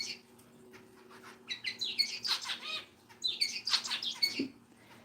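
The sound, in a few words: zebra finches singing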